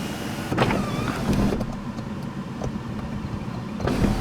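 The sunroof of a 2023 Kia EV6 GT all-wheel drive opening, a steady electric motor whir inside the cabin with a couple of soft clicks at the start and end.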